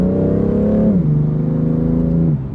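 A BMW M3 CSL's twin-turbocharged six-cylinder engine revs loud and close, its tone holding high before dropping briefly at a gearshift and then climbing and sustaining again, with no voices.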